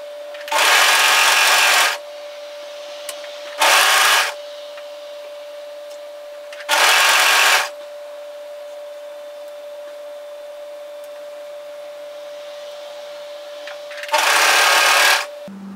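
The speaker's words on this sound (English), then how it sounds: "So then it's a matter of overlock securing that all together." An overlocker stitching the shoulder seam of a hoodie runs in four loud, close bursts of about one to one and a half seconds each, with a faint steady hum between them.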